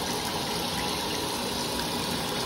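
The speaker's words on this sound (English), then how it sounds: "And you will see the water get inside the laundry machine." Water rushing steadily into a laundry washing machine as it fills, a continuous dense hiss and gush heard alone at moderate level without any break.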